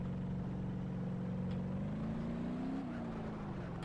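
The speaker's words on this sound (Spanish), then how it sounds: "Ya os digo, estos coches aceleran." Cars accelerate in BeamNG Drive with a steady, droning engine note that climbs gradually and dips near the end, loud and continuous throughout.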